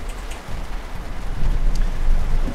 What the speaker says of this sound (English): It is raining, however, but that's okay.